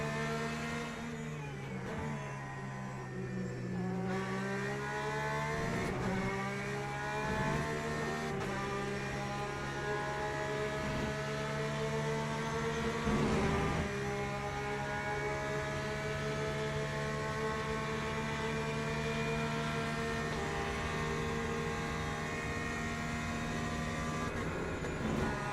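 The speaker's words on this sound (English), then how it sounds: "Nice rev limiter." A race car engine in a Le Mans endurance racing video game, held against the rev limiter in a long sustained high drone with stepped pitch shifts and stutters as it bounces off the cutoff, loud and continuous.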